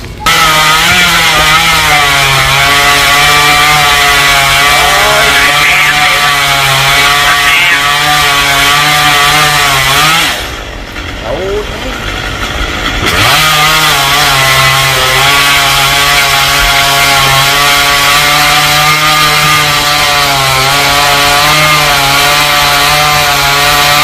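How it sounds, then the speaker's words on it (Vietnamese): A chainsaw cuts through a golden oak tree, droning loud and steady at high revs, briefly dropping off and stalling in the middle before roaring back up. "Rồi ba con Hoa cưa sát mấy cái phần nạn phía dưới nữa là xong"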